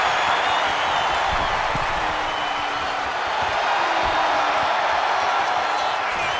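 A WWE 2K25 NXT wrestling arena crowd roars with a steady, continuous wash of cheering that holds at an even level throughout.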